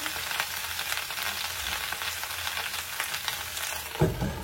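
Potatoes frying in a pan of oil, a dense, steady close-up sizzle with no voices, broken by a brief knock near the end.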